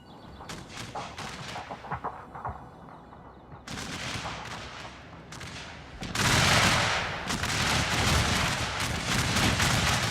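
Artillery and gunfire from a Shogun 2 battle rumble continuously, with scattered booms building into a dense, loud barrage of overlapping blasts in the second half.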